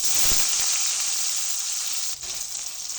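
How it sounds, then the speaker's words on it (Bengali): Chopped onion hits hot oil in a pan while an egg bhuna curry is cooked, giving a loud, steady hissing sizzle that runs for the whole stretch with a brief dip near the end and no talk. "এই তেলের মধ্যে আমি দিয়ে দেব পেঁয়াজ কুচি,"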